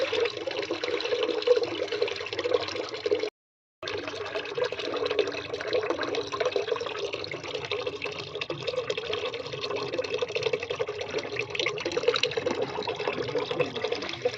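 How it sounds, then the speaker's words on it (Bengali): Moong dal being washed in water, with continuous running and sloshing water close by that cuts out for a moment, then carries on evenly. "আর এই যে মুগের ডাল চলে এলাম ধুতে।"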